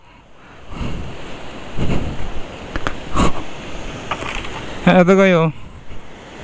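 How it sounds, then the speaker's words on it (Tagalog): Strong current of the Nambalan River at Calao Eco Park in Tarlac rushing in a steady, loud broadband roar, with a voice briefly speaking over it near the end. "Uy, ang lakas ng agos."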